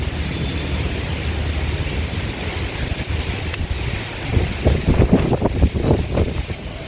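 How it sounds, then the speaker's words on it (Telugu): Strong wind gusts outdoors at a home vegetable garden during a weather change, a steady loud rushing roar with buffeting bursts toward the end. "బయట ఏమో వాతావరణం మారిపోయిందండి శుభ్రం గాలి ఎక్కువ వేసేస్తుంటే వస్తుంది అంత గట్టిగా"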